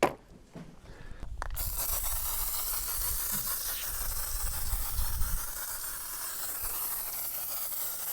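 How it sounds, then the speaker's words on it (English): A foam cannon sprays thick foam onto a car during a weekend wash, a steady loud hiss that starts abruptly after a brief lull and holds with little change. "before I even wet them down, I'm going to foam them and brush them and then rinse them"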